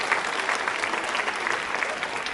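Steady, even applause from an audience at a university quiz show for a women's club, a continuous wash of many hands clapping at moderate volume throughout.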